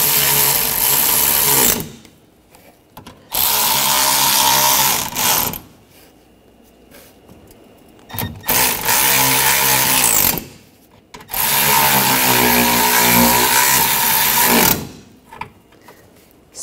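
A power tool rattles in loud, sustained bursts while bolts are tightened on a Honda HR-V during A/C condenser replacement, several long runs separated by short pauses, close and with no talk.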